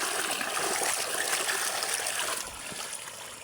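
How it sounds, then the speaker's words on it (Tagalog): Water gushes hard from a pump outlet in a strong, steady broadband rush, loud and close, easing slightly near the end. "Yan ang labas ng tubig mga idol. Ganyan pong kalakas"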